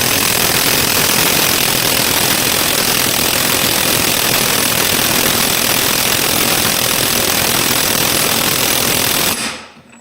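MEKIBOR 800Nm cordless impact wrench at third speed, hammering continuously and loudly for about nine seconds with a dense rattling buzz, close by, then stopping abruptly.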